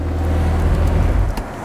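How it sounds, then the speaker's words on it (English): The engine of a McLaren 720S sports car rumbles at idle, loud and close, then cuts out and falls quiet within about a second and a half. "I'm gonna turn the car off"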